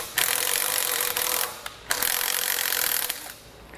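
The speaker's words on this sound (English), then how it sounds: "you can take the bolt, and we're running it backwards now from one way through, and that can help clean up those threads" A bolt is turned backwards through a weld nut on a base plate kit for a 2019 Ford Fiesta, giving a close, rasping metallic grind in two long bursts broken by a short pause.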